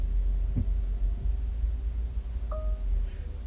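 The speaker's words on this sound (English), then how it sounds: "whenever you heard the chime, meaning that the garage door is now closing" A single short two-tone chime rings out over a steady low engine hum inside a vehicle.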